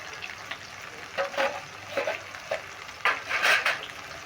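Spices with Kashmiri chili being fried and stirred in a pan for egg tadka, with soft sizzling and intermittent scraping bursts of a spoon, close and moderately loud, no talking.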